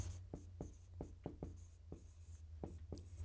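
A pen taps and strokes across paper while a maths solution is worked out, making quick, close, faint scratches in an irregular rhythm, about a dozen short marks over a few seconds, with no talking.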